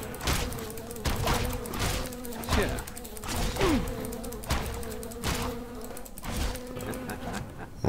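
Wasp enemies in the fantasy game Two Worlds 2 fill the scene with a continuous insect buzz and whine, with repeated sharp impact hits from combat layered over the drone.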